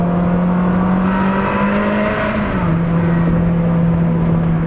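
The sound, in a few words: car accelerating with snarly exhaust note, valves open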